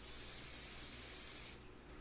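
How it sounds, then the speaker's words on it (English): A sustained aerosol adhesive spray hisses steadily for about a second and a half, then cuts off into quiet. "I'm actually going to install this wig with my tapes and even adhesive spray."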